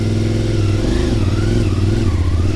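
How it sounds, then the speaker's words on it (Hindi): A CF Moto 450 cc motorcycle engine runs loud and close, a steady throbbing idle that rises and falls slightly as it is revved, with no talking over it. "चलें जी, राइड करते हैं CF मोटो 450 cc की"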